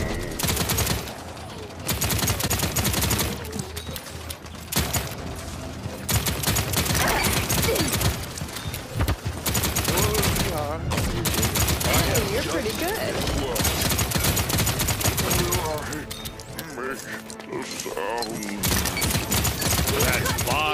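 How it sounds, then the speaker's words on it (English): Enemy gunfire in the online shooter Paladins rattles in dense, rapid bursts and fusillades that go almost without a break, with a player talking over the shooting and game effects. "Enemies are firing on me."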